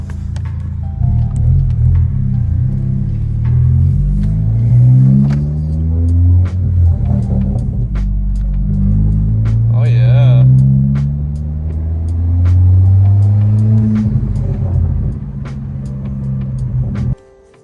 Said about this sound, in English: Now it's time for a test drive.